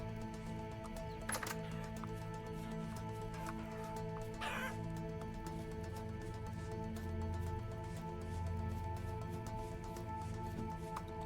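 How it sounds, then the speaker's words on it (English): Roosters and chickens cluck steadily in the survival video game Vintage Story, with a couple of louder crowing bursts standing out over a constant layered game ambience. "I think these roosters and chickens keep on coming and eating my food through the fence."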